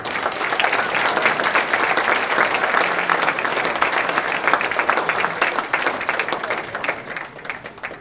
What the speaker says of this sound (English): one more round of applause for both John and Kenzie